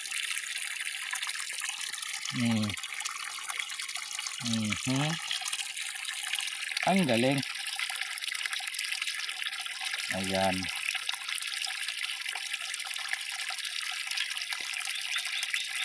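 Water from a solar water pump outlet pours steadily and loudly in a continuous rushing stream, with brief spoken exclamations breaking in a few times.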